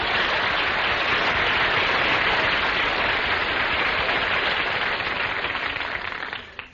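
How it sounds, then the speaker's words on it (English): Studio audience at a live radio comedy broadcast applauds in a dense, sustained wash of clapping that holds steady for several seconds, then tapers off near the end. "Folks, how about giving Don Wilson a big hand?"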